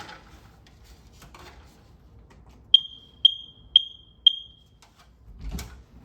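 Smoke/CO alarm chirping during a monthly functional test: four sharp, evenly spaced high beeps in a quiet room, followed by a soft thump.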